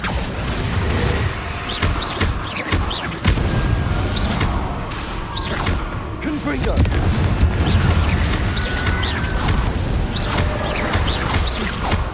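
Spell blasts in Hogwarts Legacy, including Incendio and Confringo: repeated booming impacts and crackling bursts through dense, loud game sound, with birdsong faintly mixed in; a voice shouts spell names.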